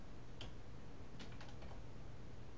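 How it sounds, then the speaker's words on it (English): Keys tapped on a computer keyboard while editing in the vi text editor: a handful of sparse, quiet clicks, with a cluster near the middle, over a faint steady hiss and no voices. "I type"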